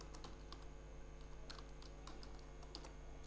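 Quick, light keystrokes on a computer keyboard in quiet bursts of clicks over a faint steady background hum, recorded close and soft with no voices.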